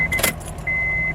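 A car key slides into the ignition of a 2008 Honda CR-V with a quick metallic jingle and click, followed by a steady high-pitched chime.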